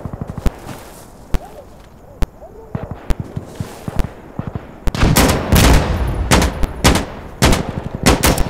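Gunfire in Insurgency Sandstorm: single sharp shots crack at irregular intervals, then a dense, loud stretch of rapid overlapping bursts close by.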